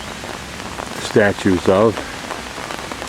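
Steady rain falls on a very rainy Sunday in Plovdiv, Bulgaria, a constant hiss filling the background while someone speaks a few words close by over it.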